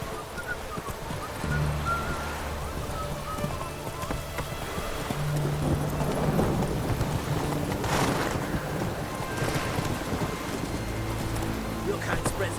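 Horse galloping in The Witcher 3 video game, a steady run of hoofbeats over game wind and ambience, with low music-like tones underneath.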